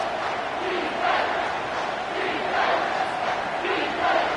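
A stadium crowd roars in a college football video game late in the game on third down, a loud continuous rumble with rhythmic swells of cheering and chanting.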